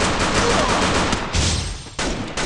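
Gunfire rattles in a Counter-Strike match, a dense, loud burst of rapid shots lasting about two seconds, then a brief gap and another sharp volley.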